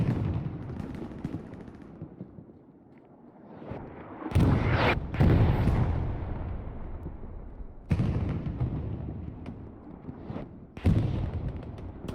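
Bombs from an air strike in Hell Let Loose, on the Carentan map, hit in a series: deep, heavy booming blasts at irregular intervals, each swelling and rumbling away over a dull background of distant battle.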